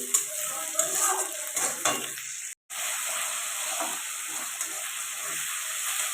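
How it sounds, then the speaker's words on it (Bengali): Fried onion with a spoonful of ginger-garlic paste sizzles steadily in a pan, while a spatula scrapes and stirs it now and then. A brief cut of silence breaks it partway through. "এর মধ্যে দিয়ে দেবো আমি এক চামচ আদা রসুন বাটা দিয়ে ভালো করে ভাজা করে নিতে হবে"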